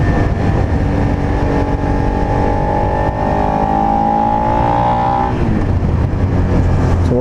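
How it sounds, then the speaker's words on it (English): A 2019 Suzuki SV650X 650 cc motorcycle engine revs loud and close, its buzzy tone climbing steadily into the higher RPMs, then dropping back to a rough idle at the end. "It's a little buzzy right there, higher in the RPMs"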